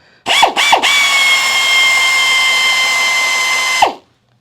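A rivet tool fastening a fabricated metal column drop for a 1932 Ford build: a couple of short sharp pneumatic bursts, then one sustained loud steady whine lasting several seconds that cuts off abruptly, close and alone.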